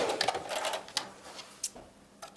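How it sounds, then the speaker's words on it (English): A sewing machine stitches fabric face mask pieces together, giving a short burst of rapid mechanical whirring up close, then a few isolated clicks as it slows and stops. "we're going to sew together the 2 pieces at the bottom. Again, backstitch"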